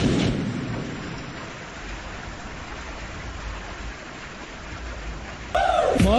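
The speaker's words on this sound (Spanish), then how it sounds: "Mucha lluvia por aquí." Heavy rain pours steadily with low rumbling thunder, a loud constant hiss that opens with a strong rumble, then a sharp burst of other sound cuts in near the end.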